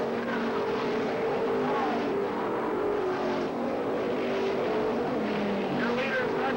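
Race cars come around the track on lap 3 at a dirt-track event, a continuous loud, dense engine roar from several cars running together, with faint talk underneath.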